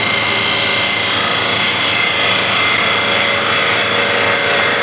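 Wood spins on a lathe as a spindle gouge cuts it, producing a steady, loud whirring hiss that holds evenly throughout, with no voices.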